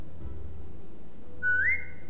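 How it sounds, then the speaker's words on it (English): In The Walking Dead video game, a character whistles to a dog to make her lie down, giving one short rising whistle after a quiet, steady background hum. "Now whistle and tell her to lie down."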